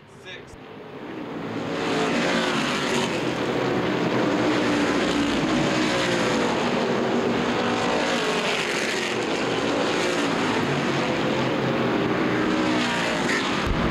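Street stock race cars roar around Winchester Speedway, engines blending into a loud, continuous drone of several cars circling together, with a race announcer talking over the noise throughout.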